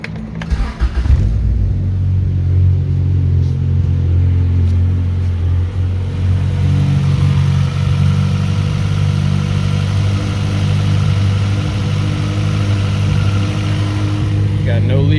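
A 1994 Honda Accord with a turbocharged H22 engine starts and settles into a loud, steady idle, a close deep rumble running throughout.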